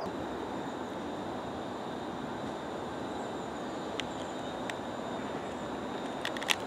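A train on the Stour Valley Line between Birmingham and Wolverhampton pulls out of a station with a steady, fairly quiet rolling rumble and a few brief high squeals or clicks near the end, with no voices.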